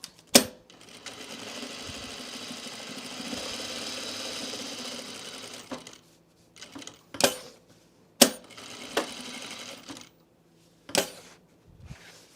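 Sewing machine stitching a blazer in short bursts: a steady mechanical whir runs for several seconds, then stops and restarts in brief runs separated by sharp clicks and pauses, fairly close, with no talking.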